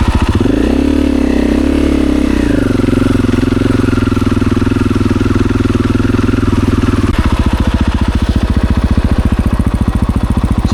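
Motorcycle engine on a dirt trail during an enduro-style ride, loud and close throughout, a steady low throbbing drone that shifts pitch near the start, then settles into a rapid, even putter after about seven seconds.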